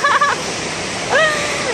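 A stream of water flows beside a farm field with a steady broad rushing wash close by, while voices talk over it at the start and end.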